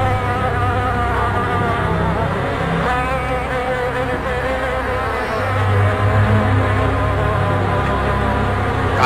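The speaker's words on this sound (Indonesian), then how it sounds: "maka Tuhan mendatangkan tulah yang keempat, yaitu lalat memenuhi seluruh negeri Mesir" A dense swarm of flies buzzing steadily and loudly up close, a continuous droning hum with overlapping wingbeats that never lets up, no voices.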